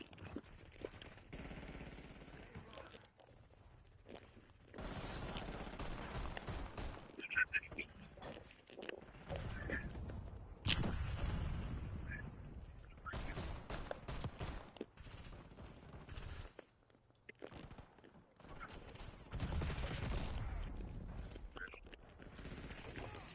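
Rapid bursts of gunfire from a Call of Duty match, sustained volleys and automatic fire rolling on through most of the stretch, with brief gaps and occasional voices over the shooting.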